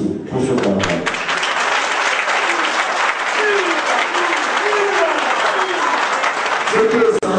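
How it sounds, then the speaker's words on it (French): An audience in a hall applauds a cabaret at a Senate president's presentation, a sustained dense wash of clapping with voices cutting through briefly at the start and end. "Et je voulais que vous applaudissiez pour ce cabaret."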